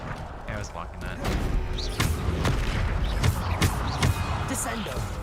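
Bombarda explosion spell cast in the Hogwarts Legacy video game: several sharp booming blasts land amid game combat noise, with a voice talking over much of it.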